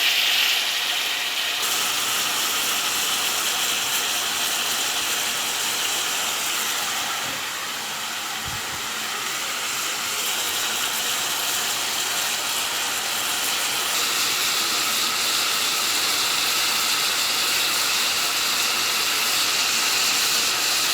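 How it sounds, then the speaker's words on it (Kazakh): Meat searing in hot oil for plov, a steady loud broadband sizzle and hiss that runs continuously with no voices over it. "мен етті салып қуырамын"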